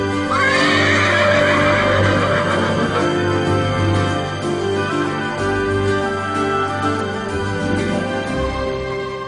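A horse at a riding club neighs loudly and close, a long whinny early on followed by snorts and hoof clops, with no talk.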